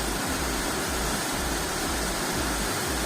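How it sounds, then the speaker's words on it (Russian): Steady broadband rushing of a waterfall at Gorelka, a loud, continuous roar of falling water with no other sounds over it. "Святая водичка с водопада."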